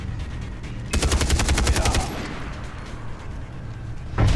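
Far Cry 3 gunfire plays as a rapid automatic burst of about a dozen sharp shots, then a single loud shot at the end, loud and close over game ambience.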